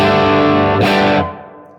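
An electric guitar runs through a ZVex Fuzz Probe fuzz pedal. One loud, saturated, buzzy chord is struck and sustains, then cuts off and leaves a fading fuzzy tail.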